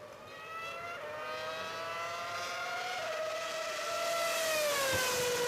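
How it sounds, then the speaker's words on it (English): Formula 1 car engine during a race pit stop, a high, steady engine whine rising in pitch with gear changes, growing louder over a background of crowd and track noise. "So this is a pit stop during a Formula 1 race"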